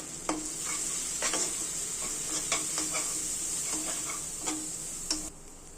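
Turmeric, chili, cumin and coriander powders sautéed in oil in a pan, with a steady soft sizzle under repeated light taps and scrapes of a spoon stirring close by.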